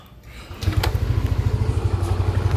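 A Yamaha Aerox 155 scooter engine catches and settles into a steady, throbbing idle, close and loud, with a faint rattle from the noisy CVT transmission; no talking.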